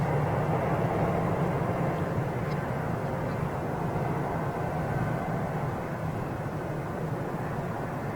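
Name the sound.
American Airlines jet landing on runway 22 right, Boston Logan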